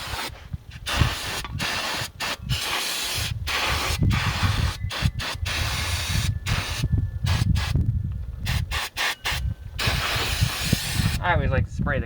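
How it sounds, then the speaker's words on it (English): Aerosol brake cleaner sprayed onto the front brake calipers of a 1997 Chevy Blazer, heard as repeated broad hissing bursts of varying length, fairly close and steady, with pauses between sprays. "I always like to spray the calipers down too"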